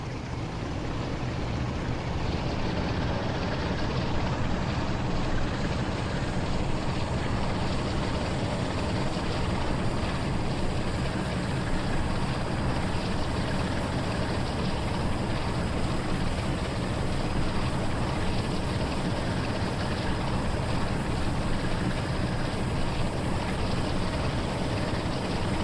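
Steady, dense engine drone from a train locomotive throttling up on the East Coast Main Line in Train Sim World 5, a broad continuous rumble at even loudness with no talk.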